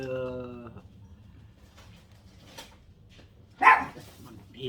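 A dog that may be ill barks indoors: a short, sharp bark bursts out near the end, after a drawn-out whining tone at the start, with voices talking in the background.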